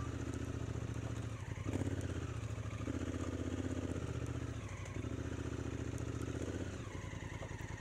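A Honda Africa Twin DCT motorcycle rides off-road on a rough track, its engine a steady, loud, close rumble with slight rises and dips in revs and some clatter throughout.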